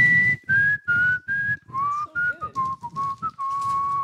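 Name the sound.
person whistling a tune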